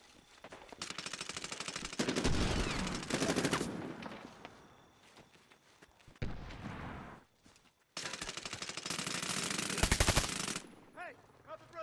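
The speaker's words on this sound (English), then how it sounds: "We're being sniped." Gunfire in the Medal of Honor: Warfighter multiplayer beta comes as loud bursts of rapid shots split by quieter gaps, with sharp reports near the end.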